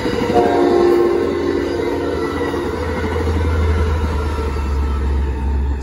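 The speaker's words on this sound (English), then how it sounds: "Amtrak 716 with a southbound destination of Bakersfield." An Amtrak San Joaquins passenger train headed for Bakersfield, led by an F59PHI locomotive with a cab car, rumbles past close by as a steady, loud roar with low engine drone and a sustained horn tone early on, no talking.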